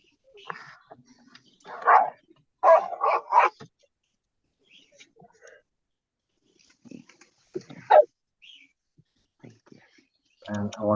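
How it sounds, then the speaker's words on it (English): Excited dogs bark in a few short bursts at close range, separated by quiet gaps, mixed in with a person talking. "My dogs are excited."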